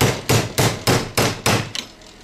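A hammer strikes a chisel to cut a brass piece from a VCR clamped tightly in a vise: six sharp, evenly spaced metallic blows, loud and close, with a smaller tap at the end.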